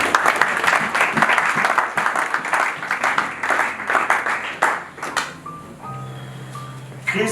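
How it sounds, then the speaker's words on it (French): A church congregation applauds together, dense sustained clapping for about five seconds before it thins out into scattered claps and room noise. "Acclamons pour notre Seigneur."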